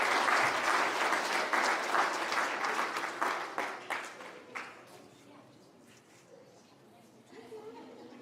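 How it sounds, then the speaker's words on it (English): Audience applause for the 1981 girls track and field team, CVC Conference champions, at a school athletic hall of fame induction ceremony: dense sustained clapping and crowd chatter, then it thins out and fades to scattered claps and murmuring. "one more round of applause for the 1981 girls track and field team, CVC Conference champions"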